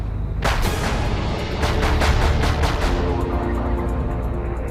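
Rapid burst of shots from a .40 caliber handgun fired from a doorway at police, about eight to ten sharp cracks in quick succession, loud and echoing, followed by a fading reverberant tail.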